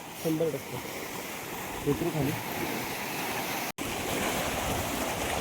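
Water at a three-river confluence near Satara flows with a steady broadband rush that fills the whole clip, while someone speaks briefly over it near the start.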